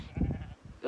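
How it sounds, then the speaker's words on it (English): A sheep bleats outdoors on a hiking trail, a short low wavering call in the first half that fades, then a brief new sound starts at the end; moderately quiet, with no talking. "Oh, there's a sheep."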